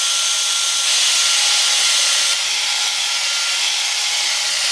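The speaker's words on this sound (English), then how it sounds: "as soon as we fire up the drill. And then we're just going to start polishing" A continuous loud whirring drone of a power drill running a buffing pad over an electric guitar finish, steady and close, with a slight rise in pitch partway through.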